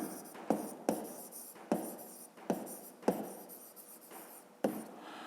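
Pen strokes on paper while a fifth-grade math exercise is worked out, a series of short scratchy scribbles with brief taps between them, close and fairly quiet with no one talking.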